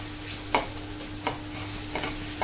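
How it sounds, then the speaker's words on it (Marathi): Sliced onions with salt sautéing in a pan for dal fry, a steady soft sizzle broken by four sharp spatula scrapes spaced about evenly, close and moderately loud, with no voices. "मीठ घातलं, छान आपण आता कांदा परतून घेऊया।"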